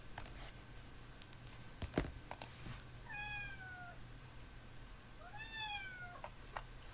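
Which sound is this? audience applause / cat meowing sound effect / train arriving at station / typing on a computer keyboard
cat meowing sound effect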